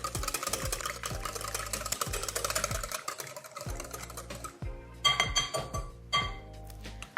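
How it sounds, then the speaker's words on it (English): A quick whisk stirs 4 teaspoons of coconut milk in a bowl, with regular clinking taps of the whisk against the bowl wall over steady background music. "I am using coconut milk today. So we're going to add 4 teaspoons of it or 2 tablespoons. And let's give it a quick whisk"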